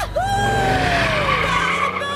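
A Ferrari's tires squeal in a sharp, loud skid over a revving engine, the high wail sliding downward across about two seconds.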